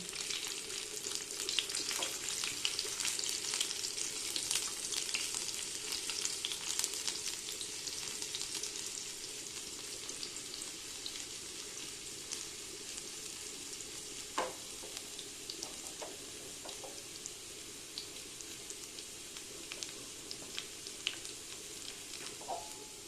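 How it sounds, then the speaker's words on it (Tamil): Garlic fries in hot oil for gongura pulusu, an Andhra-style sorrel-leaf dish, giving a soft, continuous hiss and sizzle with faint stirring scrapes throughout, fairly quiet and without talking. "இந்த காஞ்ச எண்ணெயில் இந்த பூண்டை வந்து போடணும்"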